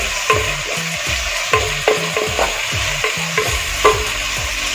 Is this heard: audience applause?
no